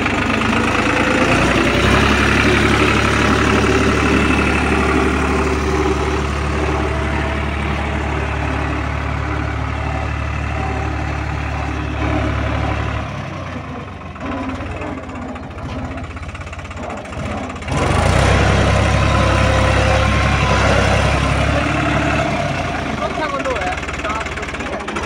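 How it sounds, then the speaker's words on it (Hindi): A New Holland 3630 tractor diesel engine runs under load at 1500 rpm, a loud, close, steady low rumble that dips briefly midway before surging back, with someone talking over it. "ये तीसरा लोड चल रहा है 1500 आरपीएम पे।"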